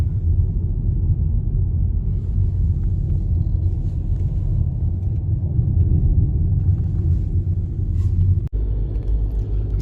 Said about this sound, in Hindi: चल रहा हूँ मैं मूवमेंट में गाड़ी, फिर भी एकदम से इतनी स्टीप हो जा रही है कि तीसरे से पहला डालना पड़ रहा है